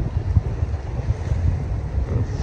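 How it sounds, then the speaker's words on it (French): Steady, loud wind roaring and buffeting the microphone at an anchorage on the Turkish coast near the Gulf of Gökova, with a low rumble throughout and no voices. "ce soir le vent est faiblissant"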